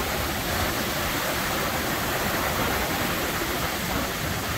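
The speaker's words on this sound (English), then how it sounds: "We're just enjoying the waves and the breeze." Waves and breeze on the beach at Indiana Dunes form a dense, continuous wash of roaring surf and wind noise, loud and steady with no voices.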